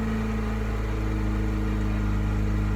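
Mazda RX8 rotary engine with a newly replaced six-speed gearbox, idling steadily and close by, a constant low hum with a strong rumble and no talk.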